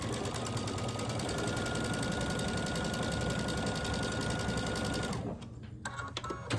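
A sewing machine runs steadily and closely, chain piecing scrappy quilt units in one continuous fast stitching hum, then stops near the end and a few light handling clicks follow.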